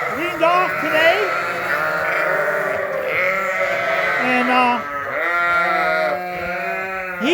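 A recently weaned flock of sheep bleats loudly and continuously in a barn, many overlapping calls close by with no pause.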